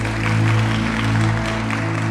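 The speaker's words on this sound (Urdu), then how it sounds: "زوردار تالیاں سے۔" Loud, sustained applause from a church congregation during a Palm Sunday sermon, a dense wash of clapping over a steady low hum that continues for the full couple of seconds.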